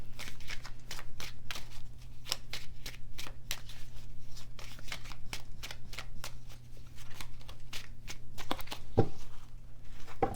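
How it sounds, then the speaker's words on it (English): Cards riffle and flick in quick, crisp bursts, repeated continuously at close range with no one talking. "I'm just shuffling the cards."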